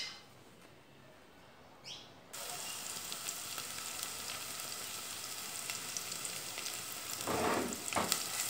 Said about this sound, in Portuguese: eu estou refogando aqui o alho com a cebola